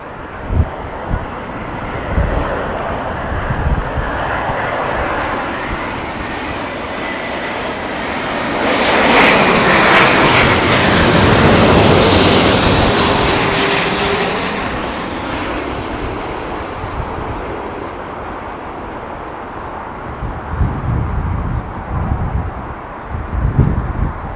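An airliner landing at London Heathrow in Storm Kathleen winds, its engine roar swelling from a distant rumble to a loud, broad peak midway, then easing off as it rolls out, with gusty wind buffeting the microphone throughout.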